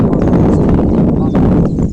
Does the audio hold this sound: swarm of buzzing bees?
no